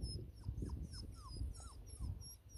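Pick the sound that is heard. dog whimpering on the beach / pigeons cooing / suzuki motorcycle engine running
dog whimpering on the beach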